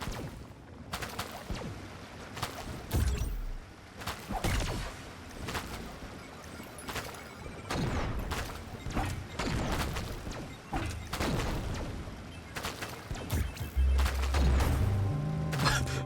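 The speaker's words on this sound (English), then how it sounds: "second and third time were instant explosions" Repeated explosions burst from the MIO: Memories In Orbit video game, a string of dense, loud booms and crashing impacts with some following close on one another, heavy low rumbles toward the end, and mechanical game sounds filling the gaps.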